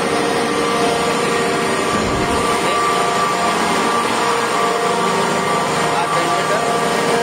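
Generator number 2 runs in a merchant ship's engine room, a loud continuous mechanical roar with a steady broadband hum that never lets up.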